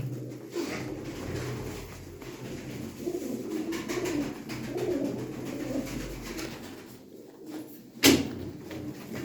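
Pigeons at a Turkish loft coo in low, soft murmurs through most of the stretch, with a sharp knock or door sound near the end; no talking.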